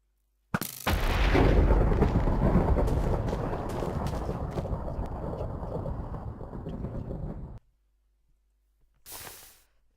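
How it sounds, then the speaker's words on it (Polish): A thunderclap summoned by a crossbow in a modded Minecraft game sounds as a sudden crack followed by a long, loud rolling rumble that fades out after several seconds, then a brief softer crackle. "I ta kusza będzie nam generować pioruny."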